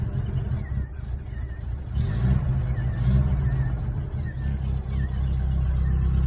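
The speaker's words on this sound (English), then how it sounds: "Give her a bit of a rev." A 1987 Subaru L series engine on a cold start revs in a low, rough rumble, swelling a couple of times in the middle while idling steadily around it.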